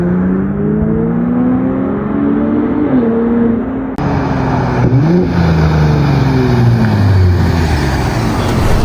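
A Ford Raptor's exhaust in Baja mode, with traction control off in sport mode, roars loudly up close as the engine revs and shifts through gears, with rising and falling pitch sweeps and a brief drop around a downshift.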